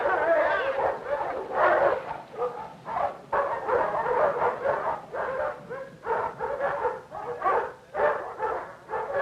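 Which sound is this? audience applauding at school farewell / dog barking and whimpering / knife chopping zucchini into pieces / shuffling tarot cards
dog barking and whimpering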